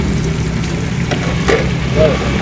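Chapli kebab frying at a roadside dhaba in Pakistan, a continuous loud oil sizzle with a few brief clicks and scrapes, close up over a low background hum.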